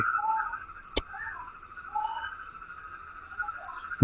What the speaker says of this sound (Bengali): ব্যাঙের কর্কশ একটা আওয়াজ